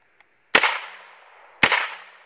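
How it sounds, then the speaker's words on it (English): Two sharp AR rifle shots at an outdoor gun training course, spaced about a second apart, each a loud close crack with a ringing decay trailing off, no talking. "Going to shoot two. Anything with a two on it gets double tapped."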